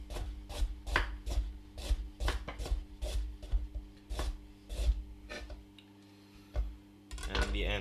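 A knife chops a vegetable into rounds on a cutting board in a series of crisp, close, evenly spaced taps, about a dozen, with a short pause near the end and brief talking.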